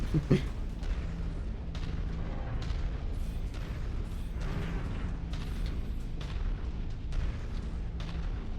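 Turret gunfire in the video game Mechwarrior 5, heard as repeated muffled booming shots spread across a steady rumbling mech background, fairly distant and moderate in level.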